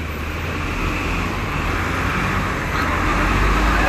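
Steady road traffic in a jam on a single-lane route, a continuous broadband rumble of car, bus and truck engines with no distinct passes, moderately loud and unbroken.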